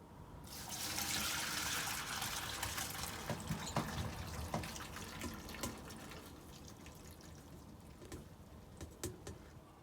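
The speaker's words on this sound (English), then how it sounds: "What I'm going to do now is drain the pasta" Pasta water gushes and splashes steadily into a sink, a close rushing pour that settles into lighter trickles and drips; no one speaks.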